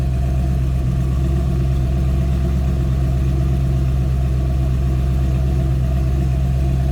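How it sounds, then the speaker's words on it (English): Modified V8 of a 2006 Ford Mustang GT Premium Coupe idling steadily and loud up close, a deep continuous rumble with no revving and no voices. "That doesn't sound like your stock GT, no doubt about that."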